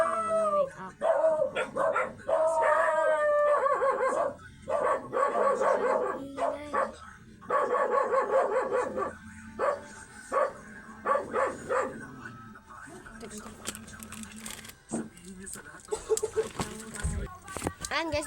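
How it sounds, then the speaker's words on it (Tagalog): Several dogs bark and howl at length, overlapping and loud, with some yips and a rooster-like call mixed in, while people talk over parts of the noise. "nagbalik kami kasi maingay kanina yung mga aso"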